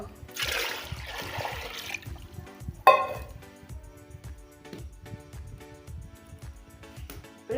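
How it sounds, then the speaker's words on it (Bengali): Water is poured into a basin set inside a pot while making gorgorya pitha, a close splash and gurgle in the first two seconds, then a sharp clunk and faint drips and taps. "তারপর দিয়ে দিচ্ছি 2 ঘটি জল"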